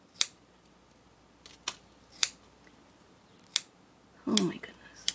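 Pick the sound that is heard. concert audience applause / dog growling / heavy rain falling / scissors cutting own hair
scissors cutting own hair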